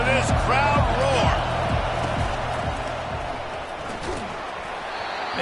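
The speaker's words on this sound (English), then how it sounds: "listen to this crowd roar" A college football stadium crowd roars at an Oklahoma versus Alabama game, a loud sustained wash of noise with a few sharp thuds near the start, steady throughout.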